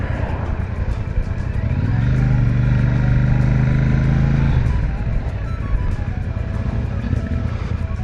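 A Royal Enfield Super Meteor 650 motorcycle pulling away on a test ride, its engine rumbling low and steady, swelling briefly into a louder drone before settling back to a close idle-like thrum.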